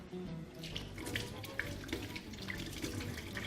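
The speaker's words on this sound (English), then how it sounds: "I wanted to run this under cold water actually" Cold tap water runs steadily over chicken tikka skewers in a kitchen sink, a continuous splashing hiss with small irregular spatters, close and fairly loud, with no talking.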